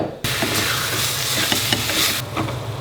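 Chopped vegetables sizzle and hiss steadily in a hot pan, with soft scraping stirs breaking through the continuous frying noise, close and fairly loud.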